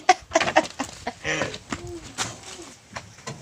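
Several chickens cluck and squawk in short, irregular bursts close by, with bird calls overlapping amid scattered outdoor noise.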